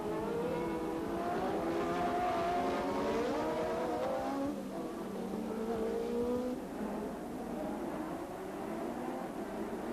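Formula One cars racing in a 1984 Grand Prix, led by Alboreto's Ferrari and Cheever's Alfa Romeo, their engines producing a continuous high-pitched, wavering whine with pitch sweeps as cars rev and pass, loud and steady throughout.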